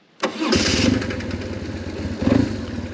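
A warm 2005 BMW R1100S Boxer Cup Replica's boxer twin cranks briefly and catches, then settles into a loud, close, uneven idle with a slight rise in revs near the end.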